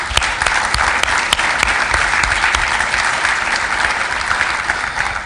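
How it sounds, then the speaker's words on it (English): Sustained, loud applause from an audience at the Linux Australia annual general meeting, dense steady clapping filling the room for several seconds with no voices over it. "if I could get a round of applause, that would be wonderful."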